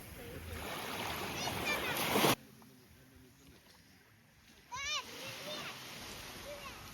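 Sea water splashes around a stand-up paddleboard in calm sea, with a loud burst of splashing near the start and another short splash later, while a voice and light chatter are heard over the lapping water.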